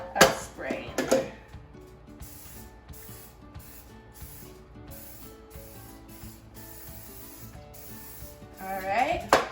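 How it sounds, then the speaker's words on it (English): Cooking spray hisses in short bursts into the corners of a bread loaf pan, close and clear, with quieter clinks and handling noises in between. "just get a little bit of spray in there"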